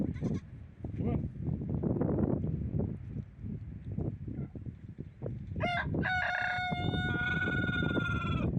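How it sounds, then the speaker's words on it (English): A rooster crows loudly and close at the end, a long harmonic call whose tail wavers into a yodel-like warble, after a stretch of busy farmyard noise and scattered bleating. "He got a little yodel at the end of his crow."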